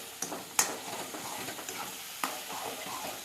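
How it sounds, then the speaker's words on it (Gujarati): A spoon stirs tomatoes into a cooking gravy in a pan, giving soft scraping and a couple of sharp clinks over a low, steady sizzle, close by with no talking. "ચમચાથી થોડું હલાવવું પડશે"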